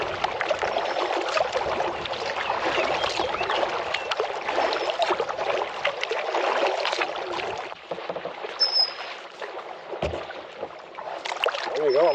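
A paddle works through river water beside a 14.5-foot Belinsky Riptide canoe on the Nith River, a steady close swishing and trickling with faint bird calls near the end.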